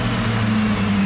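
A 1995 Ford F150 engine running just after starting, a steady low rumble with a strong droning hum, close and continuous with no talking.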